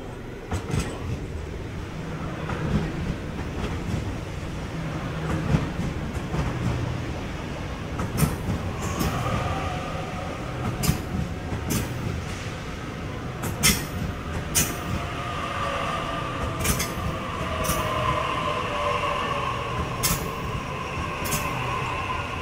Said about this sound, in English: We have a City Circle service approaching platform 21.